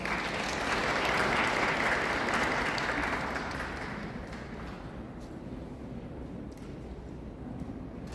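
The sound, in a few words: audience applause at a memorial gathering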